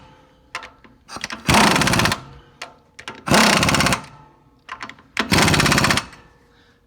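Impact wrench tightening wheel nuts on a boat trailer's five-stud hub, three loud buzzing rattling bursts of about half a second each, with short clicks and taps between, close by.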